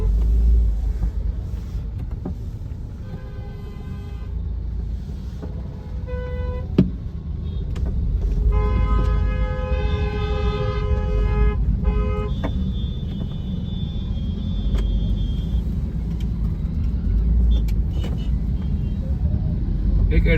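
A CNG car starts creeping forward in traffic, with a steady low engine and road rumble from inside and short car horn toots sounding from the surrounding vehicles.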